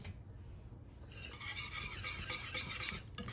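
Sausage gravy whisked in a pot on the stove for a country breakfast: a steady close-up scraping and stirring of the whisk against the pan, continuous for about two seconds with faint background hiss, no talking.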